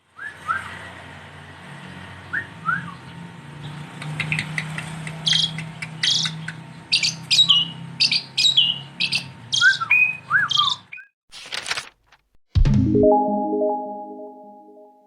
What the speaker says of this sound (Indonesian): jalak suren sudah berhasil ditangkarkan dan menjadi salah satu burung favorit